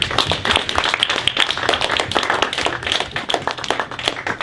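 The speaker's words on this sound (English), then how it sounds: "Give them both a round of applause." A debate audience applauds two student speakers at a charter school debate, steady close clapping from a modest crowd running throughout with no voices over it.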